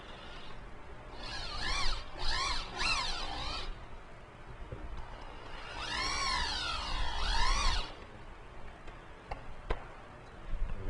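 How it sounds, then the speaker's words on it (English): A power drill drives screws into a floating countertop bracket, several rising and falling whirring bursts of the motor separated by quiet pauses and small taps, close and moderately loud. "then you're going to come back and put your screws in"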